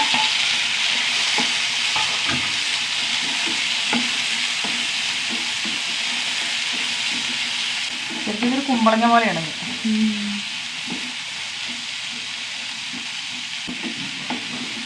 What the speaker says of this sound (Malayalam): തക്കാളി നന്നായി വഴണ്ട് വരാം